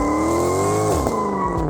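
Mercedes E63 AMG M156 V8 fitted with aftermarket headers revving hard, a loud, rising engine howl that climbs steadily, then drops sharply on a shift and pulls again, close and alone with no speech.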